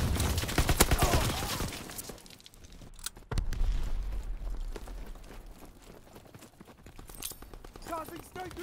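Grenade blast and gunfire in a shooter game with a Grease Gun: rapid bursts of shots and sharp cracks, a heavy thump near the middle, then scattered firing continuing under a voice talking.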